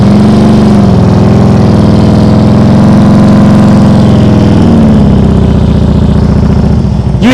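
A motorcycle engine during slow-speed riding practice, heard up close and loud as a steady idle drone. Near the end the throttle rises and the pitch shifts as the revs climb before pulling away.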